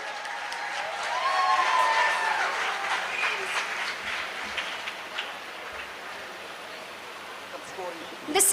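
A hall audience at a physiotherapy rehabilitation conference breaks into sustained applause, a dense crackling wash of clapping that swells early, holds steady, then thins toward the end.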